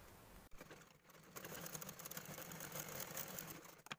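A sewing machine stitches through handbag lining, a zip and fabric layered together, with a brief start then a continuous close whirring run of needle strokes and a short pause near the end.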